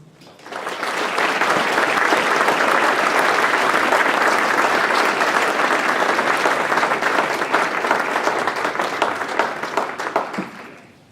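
A large audience applauds, dense clapping that swells in quickly, holds steady for several seconds, then tapers off.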